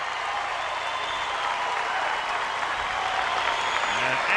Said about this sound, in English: You will hear a roar if Agassi wins this point.